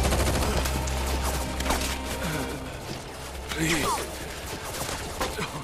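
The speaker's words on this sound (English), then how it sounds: "They just showed up and started shooting." Shinra soldiers fire guns in Final Fantasy VII Rebirth, a dense, continuous rattle of shots layered with crashes and impacts while characters call out over the chaos.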